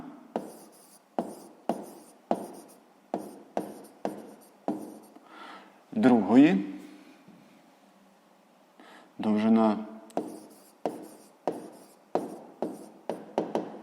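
Handwriting a sixth-grade math solution, with rhythmic pen or pencil strokes scratching on paper in short repeated bursts, close up, interrupted briefly by a couple of louder rustling sounds.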